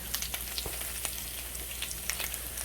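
Potatoes fry in plenty of grease in a cast iron pan, giving a steady hiss of sizzling oil with small pops and crackles spread throughout.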